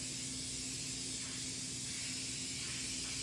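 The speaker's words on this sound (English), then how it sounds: "And I'm spraying it now in black for him." A steady, close aerosol spray of black paint onto a toilet bowl hisses continuously without a break, with no voices.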